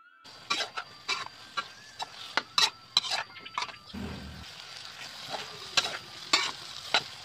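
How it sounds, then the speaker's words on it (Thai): Sponge gourd and egg are stir-fried in a pan, with a rhythmic run of sharp spatula scrapes and clacks over a low, quiet sizzle. "ผัดบวบใส่ไข่ผัดมาน้อยใส่ไข่ทำง่ายๆแต่อร่อยล้ำขนาดเลยนะเจ้า"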